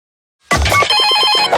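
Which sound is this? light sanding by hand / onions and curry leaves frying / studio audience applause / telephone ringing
telephone ringing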